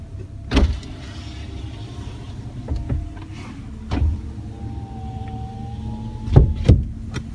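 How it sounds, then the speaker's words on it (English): Power windows on a Toyota Corolla LE run in short bursts inside the car, each motor whine starting and stopping with a thump, over a steady low cabin hum. "Automatic door locks, power windows,"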